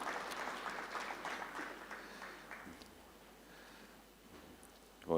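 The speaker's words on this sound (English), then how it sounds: "All right, just a round of applause to them again as they take their seats." Faint, distant applause at a national child protection conference as speakers take their seats, fading gradually, with a sudden louder sound right at the end.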